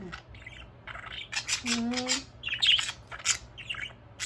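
A pet budgie squawks and chirps in quick, bright bursts close by, with a short sustained tonal call in the middle and a quiet voice faintly underneath.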